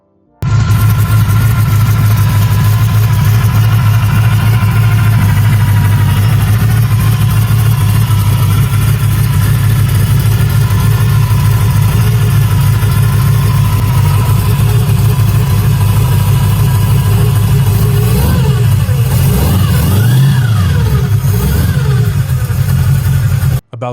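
A 1929 Ford Model A street rod's engine idles with a loud, steady low rumble, then revs up and down in a couple of swells near the end.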